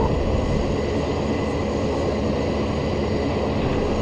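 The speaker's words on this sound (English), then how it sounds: "I'm gonna fly this aircraft." A flying airplane gives a steady, dense engine roar that fills the whole stretch evenly, loud and close, with no pauses and no voices.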